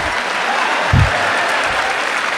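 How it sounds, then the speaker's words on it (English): Audience applause at a live comedy and political talk show, a steady wash of clapping from a crowd, with one louder thump near the middle. "give Evan a round of applause"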